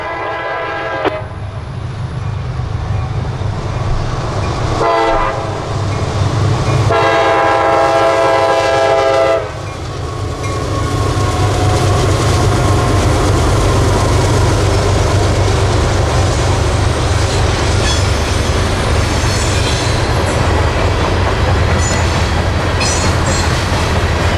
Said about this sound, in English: B-231 is a loaded phosphate unit train out of Mulberry, Florida, and is bound for Bensenville